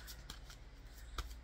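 Playing cards are shuffled and drawn, a quiet, brief riffle of soft papery flicks with a few crisp snaps close by.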